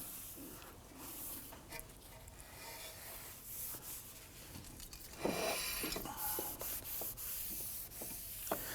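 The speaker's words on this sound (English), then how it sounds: "if you notice that your brake rotor has anything on there that shouldn't be, you can go ahead and give it a quick wipe down" A cloth rubbing over a brake rotor on a 2005-2009 Subaru Legacy, soft scraping strokes close by, quiet at first and then firmer, scratchier wiping in the second half.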